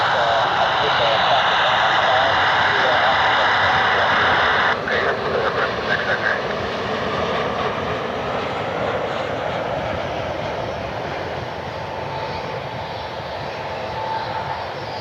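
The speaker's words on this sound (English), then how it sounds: "we'll have a NetJets citation out of Teterboro" A NetJets Citation jet at an airport, its engine making a loud, steady roar and hiss that drops somewhat after a few seconds and continues as a broad, distant rumble, with speech heard over it.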